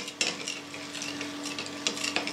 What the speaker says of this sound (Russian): И начинаем постепенно вмешивать муку